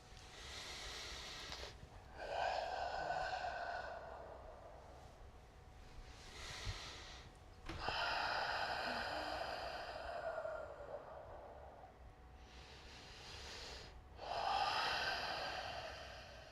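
Deep diaphragmatic breaths taken during a mobility stretch, slow inhale-exhale cycles recurring about every six seconds, close and fairly loud, breathy and airy with no talking.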